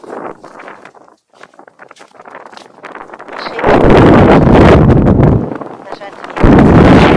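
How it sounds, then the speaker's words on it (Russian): Wind on a frozen lake in deep winter buffets the microphone in loud roaring gusts, rising after a quieter start where a person speaks and footsteps crunch, then surging again near the end. "Ветер тут, конечно."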